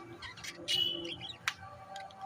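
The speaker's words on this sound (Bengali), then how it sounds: "লাভবার্ড" Lovebirds for sale in a bird market give a few short, high chirps and tweets, close and moderately faint, with soft background murmur.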